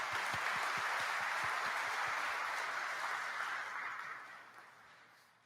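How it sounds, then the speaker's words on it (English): Steady crowd applause from the audience at a university commencement ceremony, a broad continuous wash of clapping with a few louder single claps early on, slowly tapering off toward the end. "applause for our musicians"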